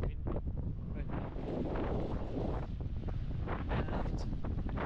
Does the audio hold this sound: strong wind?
yes